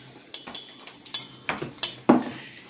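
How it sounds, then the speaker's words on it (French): Eggs and sugar mixed in a bowl, a series of close clinking and scraping strokes of a utensil against the bowl in an uneven rhythm, about seven knocks. "on mélange les œufs et le sucre"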